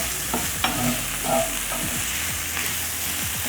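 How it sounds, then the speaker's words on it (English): Beef liver with onions sizzles and fries in a pan while a utensil stirs it, scraping and clinking against the metal in irregular strokes under a steady, close hiss. "So you'll cook this down for about 2 minutes. Just stirring."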